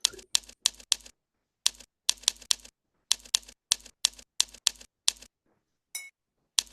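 Quick bursts of keyboard typing, crisp clicking keystrokes in short runs separated by brief pauses, close and otherwise quiet.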